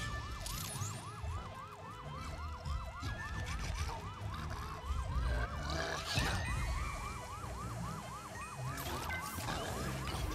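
A wailing siren in the video game Luigi's Mansion 3 rises and falls in fast, regular cycles throughout, loud and continuous over a busy background of game sounds.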